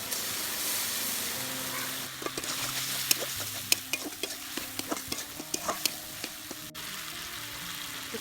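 Tomatoes stirred into a pan of hot oil and garlic for a Bengali village chicken curry, sizzling steadily with repeated sharp scraping and clacking strokes of the spoon, close and fairly loud, with no talk.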